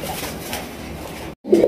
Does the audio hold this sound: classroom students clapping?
no